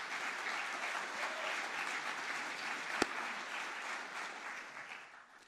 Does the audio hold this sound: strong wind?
no